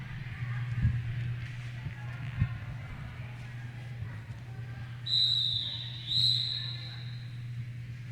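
A referee's whistle at a roller derby game gives two short, sharp blasts a second apart, ringing out over a noisy crowd murmur and scattered thumps.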